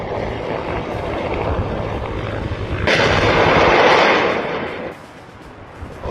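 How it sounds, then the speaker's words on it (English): A Ukrainian Mi-8MT attack transport helicopter fires unguided missiles at positions, a sudden loud rushing roar bursting in partway through over a droning rotor and engine background, then fading. "Ukrainian Mi-8MT attack transport helicopter strikes Russian positions with"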